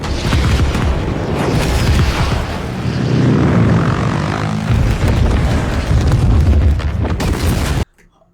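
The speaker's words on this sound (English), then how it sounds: "Oh, I saw this explosion" A huge explosion from the film Dune Part Two roars as a loud, sustained rumbling blast with layered booming and crackle, continuing for several seconds before cutting off abruptly.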